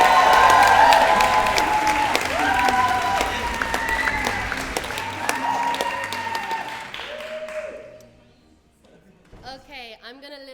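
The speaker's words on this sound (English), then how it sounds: "You can choose to keep these rights or waive them, which means you'll be met with a rapturous round of applause." A round of applause and cheering fills a university debate chamber, loud and sustained with overlapping voices and whoops, then fading out while a speaker begins talking near the end.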